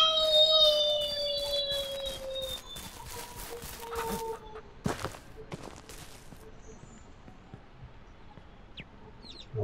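Chickens clucking in the farming video game Ranch Simulator, several clipped clucks and short calls in an uneven cluster, then quieter scattered clucks over a low background hum.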